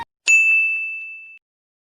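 A notification bell dings once, bright and clear, after a tiny click, then rings out and slowly fades over about a second before silence.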